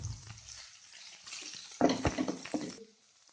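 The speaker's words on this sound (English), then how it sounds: "Stir fry till nice golden brown" Onions and spices for a dry sweet potato masala stir-fry in a pan, a soft sizzle broken by a few louder scraping stirs near the end, close and brief, with no voices.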